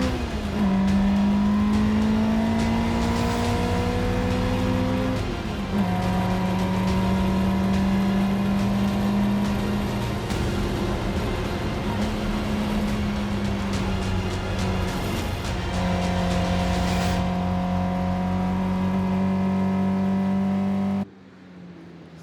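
A small race car's four-cylinder aluminium 1.6-litre twin-spark boxer engine runs loud and close for about twenty seconds at a classic circuit, holding steady high revs with a few gear changes and rising pitch sweeps before cutting off abruptly.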